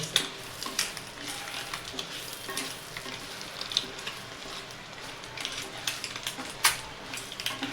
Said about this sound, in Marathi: थोडंसं मीठ टाकले मला आता फ्राय करून घेऊ